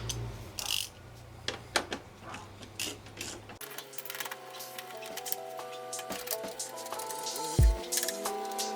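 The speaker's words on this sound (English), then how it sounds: "There's a bolt underneath the blinker here and two in front using a 10 millimeter wrench." A 10 mm wrench loosens the headlight frame bolts under the blinker on a 2015-2020 Subaru WRX STI, giving quiet metallic ratcheting clicks and small knocks over soft background music.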